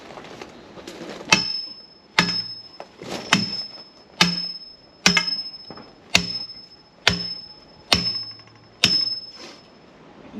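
Hammer blows strike metal hardware during a solar panel installation, landing in a steady, evenly spaced rhythm of sharp, loud clangs with a bright ringing tone that hangs after each hit.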